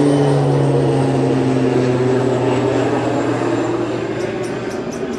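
A loud, steady airplane engine drone with a low propeller hum, fading slightly as it passes; no talking.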